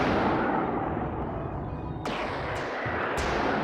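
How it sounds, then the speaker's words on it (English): Fireball missile launchers in the video game BossConstructor 3 firing three sharp, booming blasts in quick succession over a dense, loud rumbling wash of game noise, with no talk. "Now watch my my fireball missile launchers and stuff."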